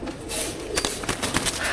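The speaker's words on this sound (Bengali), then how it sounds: "এই মুহূর্তে যেসব কবুতর আপনারা দেখতেছেন এগুলো সব আর্মি কবুতরের জাত" Several army-breed pigeons coo softly nearby, with low rounded calls repeating over steady background noise and brief rustles.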